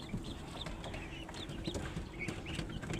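A broody desi hen clucks angrily while guarding eggs in a wooden nest box, a rapid run of close, harsh clucks and squawks over a low rustling background, continuous and agitated.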